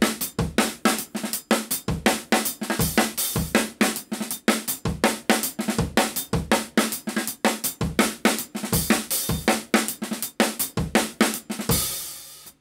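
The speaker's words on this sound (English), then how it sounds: "he'll replace the very last bass drum of the bar with a double stroke on the snare drum." Drum kit playing a groove in which a snare double stroke replaces the last bass drum of each bar. Tight kick and snare hits run in a steady pattern over bright cymbals, close and loud, ending on a cymbal wash.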